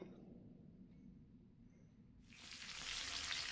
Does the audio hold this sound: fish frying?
yes